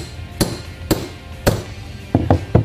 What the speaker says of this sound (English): Place the sleeve into the center of the bushing and tap it home with a hammer.